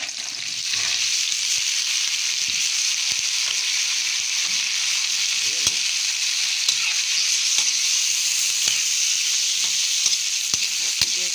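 Shrimp hits a pan of crab simmering in coconut milk and sizzles steadily, a loud continuous hiss with occasional soft stirring clicks and no talking.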